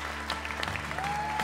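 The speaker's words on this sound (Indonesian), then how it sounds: "Sekali lagi semuanya tepuk tangan untuk Ernest Prakasa." An Indonesian stand-up comedy competition audience applauds a finalist, a continuous, even patter of clapping from a large crowd, with a faint tonal whine running beneath it.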